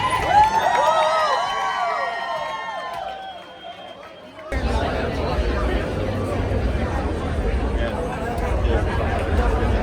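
A large crowd at D23 2024 fills the space with dense chatter and babble; a bright, tonal passage at the start cuts off abruptly into a steady wall of many voices, near and loud.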